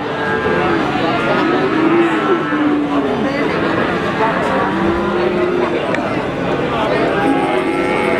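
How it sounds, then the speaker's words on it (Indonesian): Limousin cattle lowing at a busy cattle market in Pati, with several drawn-out moos rising over a steady crowd babble and general market noise throughout. "kita lanjut ke sapi berikutnya"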